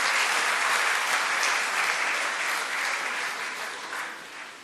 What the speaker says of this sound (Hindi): आप तमाम लोगों से गुजारिश है कि ज़ोरदार तालियों में पीर भाई का इस्तकबाल करें